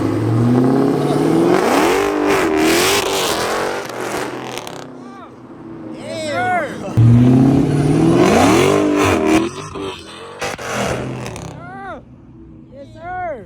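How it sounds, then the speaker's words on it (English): A Mopar car revving hard at a Raleigh park-and-chill car meet, the engine roaring up and falling back in repeated surges while excited voices shout and cheer close by. "Rev it up."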